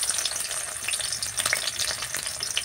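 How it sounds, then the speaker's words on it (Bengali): Onion frying in hot white oil in a wok, a dense, steady sizzle with crackling spits, close and continuous for a few seconds. "কড়াইতে সাদা তেল দিয়ে দিলাম, একটু পেঁয়াজ দিয়ে দিব,"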